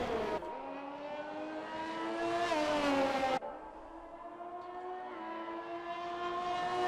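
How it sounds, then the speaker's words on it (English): An F1 race car in the F1 2021 video game, racing at Imola, San Marino, accelerates hard with a loud, rising high-revving engine whine, shifts up abruptly midway, then climbs steadily again, close and continuous without talk. "So Chloe giving it a welly here"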